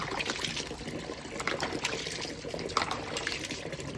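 Cold water splashing and trickling over a dog's body during a hot-afternoon bath, a steady broadband pour with small surges, close and fairly loud with no talk.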